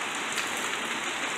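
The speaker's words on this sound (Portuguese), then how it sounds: "água caindo, muita chuva." Heavy rain pours down in a dense, continuous hiss, steady and unbroken throughout, with no voices over it.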